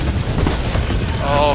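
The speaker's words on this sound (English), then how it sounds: "Airstrike." Booming explosions from a video game airstrike rumble low and continuous through a short stretch, with a voice speaking over the blasts.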